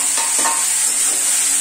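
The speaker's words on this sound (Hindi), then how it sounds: "बस जैसे जीरा हमारा क्रैकल होगा तो इसमें मैं डाल दूंगी ये मेरा मशरूम।" Mushrooms dropped into hot oil with crackling cumin seeds give a loud, dense frying sizzle, close and continuous, with a brief stirring rustle near the start and no voices.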